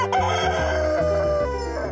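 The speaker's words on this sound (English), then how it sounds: "I just think chickens are the most delightful creatures." Chickens clucking and crowing close by, a loud, wavering run of fowl calls over a couple of seconds.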